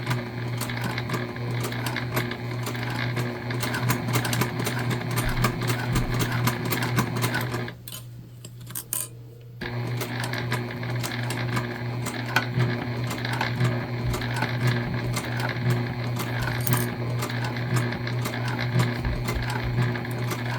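A sewing machine runs steadily while stitching an Aurora shoulder bag from a sewing pattern, a loud continuous motor hum with rapid needle chatter, pausing briefly near the middle before resuming.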